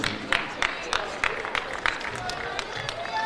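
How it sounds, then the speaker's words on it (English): A basketball team bench claps for a player coming off the court at a Class 3A high school game, giving sharp, evenly spaced claps in a steady rhythm over faint crowd noise and a commentator's voice. "We hear the bench clapping for Hamilton"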